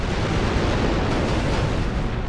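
Ordnance explosion in Star Wars Republic Commando, a loud sustained roaring blast with dense rumbling debris that fills the whole moment without fading.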